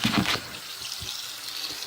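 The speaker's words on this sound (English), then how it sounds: "first step, we got our water running here" Tap water running into a kitchen sink during home wine making, a steady broadband hiss with a louder gush at the start, then settling into an even, close stream.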